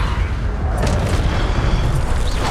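A loud, dense magical fire blast from the Incendio spell in the Hogwarts Legacy video game roars continuously, a thick rumbling burst of crackling energy filling the whole moment without speech.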